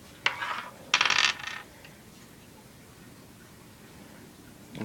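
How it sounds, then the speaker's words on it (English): Dice rolling on a table during a homemade trading card game: two quick clattering bursts close by, the second longer, followed by near silence and a faint thump at the end. "dice are very hard to maneuver"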